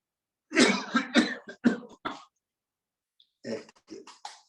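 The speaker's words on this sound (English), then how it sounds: "breathe in and cough for 3 or 4 times" One person coughs forcefully three or four times in quick succession during a breathing exercise, pauses, then gives a second shorter run of coughs, close and loud in a quiet room.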